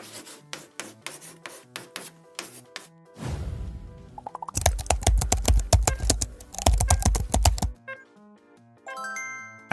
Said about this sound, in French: Un clavier d'ordinateur